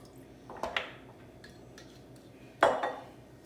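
A small metal cocktail tin clinks and clatters as 1 ounce of Midori is measured in, with a light knock early on and a sharper ringing metallic hit near the end, close and quiet.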